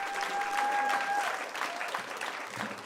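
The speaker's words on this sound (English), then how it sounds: "keep clapping for yourselves, guys" Comedy club audience at a Times Square venue claps steadily in a dense, continuous burst of applause that stays loud throughout, then tapers slightly toward the end, with a brief tonal ring near the start.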